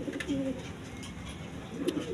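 Soft, low coos from a pair of caged Giribaz pigeons sound a few times, near and fairly quiet, over a faint background hum with no talking.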